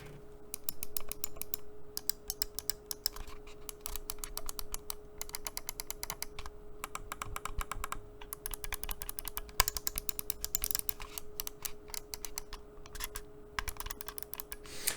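Rapid, crisp clicking of Logitech G303 gaming mouse buttons in quick bursts with short pauses, close and fairly quiet, with no talking.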